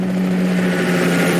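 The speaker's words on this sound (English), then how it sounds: "Helicopter." Helicopter in a Minecraft heist game, its steady low rotor drone and engine hum holding evenly and loud for a moment with no talk over it.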